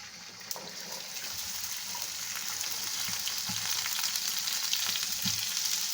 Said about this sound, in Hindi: और इसे अच्छे तरीके से फ्राई करेंगे।